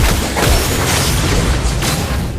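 A turret being destroyed in the Mobile Legends mobile game, heard as a loud, dense burst of crashing booms and mechanical debris sustained for about two seconds, with layered game effects throughout.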